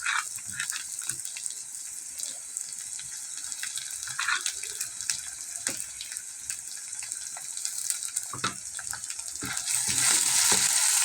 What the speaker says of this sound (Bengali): এবার দিব আমি আদা বাটা 2 চামচ।